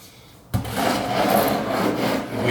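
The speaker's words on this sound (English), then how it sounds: "grab our oil pan and make sure that we can slide it up under here" An oil pan scrapes and slides along a hard floor under an MV Agusta F3 800 motorcycle, starting abruptly with a sharp onset and continuing as a close, gritty rubbing for about two seconds.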